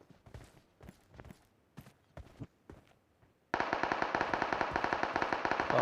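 Gunfire in PUBG Mobile: several separate single shots first, then a long, loud, rapid automatic burst of evenly spaced cracks that keeps going to the end.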